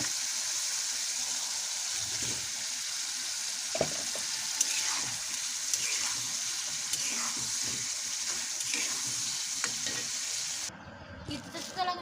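Egg stirred into a spice masala frying with dried fish in a pan, a continuous close sizzle with repeated spatula scrapes and clicks, briefly dropping quieter near the end.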